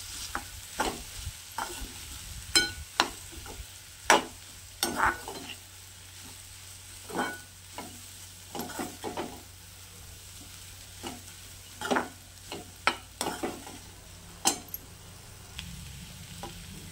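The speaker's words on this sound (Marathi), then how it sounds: "हे सुद्धा मी यामध्ये परतवून घेणार आहे 5 मिनिटं" Mixed sprouted moth beans sauté in a pan, a soft continuous sizzle broken by frequent sharp scrapes and clinks of a spoon stirring against the pan.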